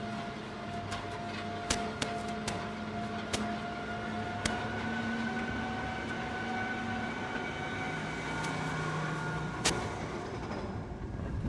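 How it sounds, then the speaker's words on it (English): SkyWinder roller coaster at Six Flags America climbing its lift hill, a steady mechanical rumble with a sustained hum and occasional sharp clicks and clanks over the full climb, no voices. "We're going up the lift hill now."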